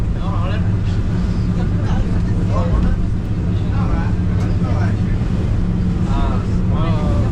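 A speedboat crosses open water in stormy weather in the Maldives, its engine droning steadily beneath constant buffeting wind on the microphone while people talk over the noise.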